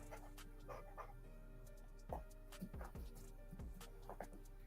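A pet dog pants and whimpers close by in short, uneven bursts, the soft breathy huffs and small whines rising over a steady low hum in an otherwise quiet room.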